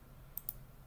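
A computer mouse gives two quick, sharp clicks close together against a quiet, faint background hum.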